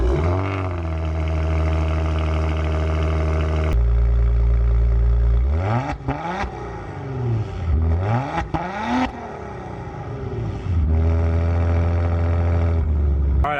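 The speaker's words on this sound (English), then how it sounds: "So let's get this car started up" A 2020 Maserati Ghibli Granlusso engine cranks and starts, revs sharply a couple of times with rising and falling pitch, then settles into a steady idle.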